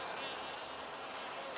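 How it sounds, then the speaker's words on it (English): A honey bee buzzes at a fall sugar-syrup feeder, a steady close insect drone with a high whining hum that holds without pause. "Come on, little bee"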